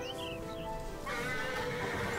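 A wild horse in the Horse Tales game lets out a loud, close whinny in the second half, a rising, shaky neigh over continuous ambient game music and faint hoof movement.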